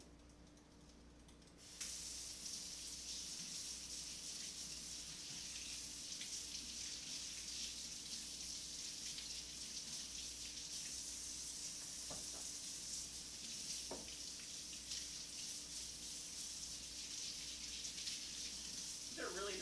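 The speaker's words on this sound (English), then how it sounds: "We're gonna wash these really well." Water runs from a kitchen tap in a steady, soft hiss while dirty carrots are washed, with a faint voice in the room and a few brief clunks.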